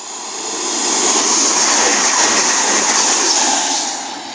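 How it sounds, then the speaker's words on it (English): An East Midlands Railway class 222 diesel unit roars past on the Midland Main Line at Leagrave, a loud broadband rush swelling quickly, holding steady, then easing as it passes close by. "Next stretch of pass by is going to be East Midlands Railway service, operated by class"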